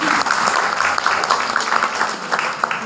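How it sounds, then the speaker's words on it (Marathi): An audience at a lecture hall event claps together in a dense, steady patter of applause, moderately loud and continuing throughout without a break. "तुम्ही टाळ्या तरी वाजवून दाखवा."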